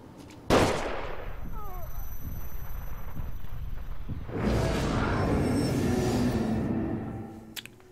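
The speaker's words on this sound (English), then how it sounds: "Find cover. They're shooting." Gunfire during a shootout in the horror game The Evil Within, a sharp loud shot followed by sustained rattling bursts of fire and impacts from about halfway on, with players talking over the action.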